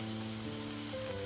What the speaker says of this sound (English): The rain seemed to have become even stronger.